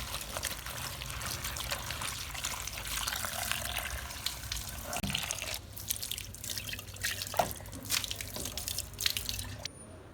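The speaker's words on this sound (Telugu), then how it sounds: "ఇప్పుడు శుభ్రంగా నీట్గా కడుక్కుని ఉడకబెట్టుకుందాం" Chopped cluster bean pieces being washed in water, a continuous close splashing and trickling with occasional drips and light knocks against the vessel.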